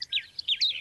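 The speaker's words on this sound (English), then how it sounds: "Just listen to those birds." Birds singing in an animated children's show, heard as short, bright chirps and tweets in quick succession, clear and fairly close, alone without any talking.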